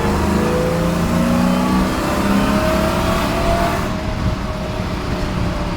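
A Lexus V8 engine swapped into a 1966 Toyota Stout revs hard and climbs in pitch, a loud, close, sustained roar with rising tones that eases slightly near the end.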